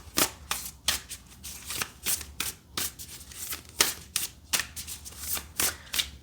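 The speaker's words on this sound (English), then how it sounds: "so we'll keep shuffling here." Tarot cards are shuffled by hand in quick, uneven bursts of crisp riffling and slapping, close and fairly soft, repeating about a dozen times with short pauses and no talking.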